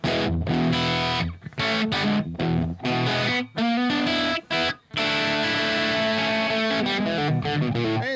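An electric guitar with no echo effect strums steady sustained chords, loud and full, with a few brief breaks between strums and no voice over it.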